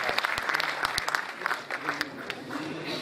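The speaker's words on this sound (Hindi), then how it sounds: "तालियों की गूंज में इस्तकबाल करके इजाजत दे" Enthusiastic applause from an audience at an all-India mushaira greets a poet, dense clapping close and loud, with a voice talking over it.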